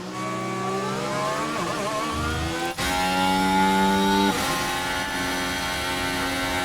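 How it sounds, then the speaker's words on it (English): A Renault Formula 1 engine in the F1 Manager 24 racing game at the Bahrain Grand Prix sounds as a steady, high-pitched whine that climbs in pitch, drops sharply on a gear change, then climbs again. "But yeah, listen to this engine. Alright, this is the Renault, right?"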